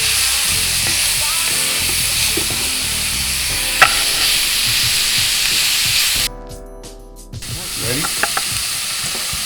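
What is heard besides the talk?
spinach frying and sizzling in a pan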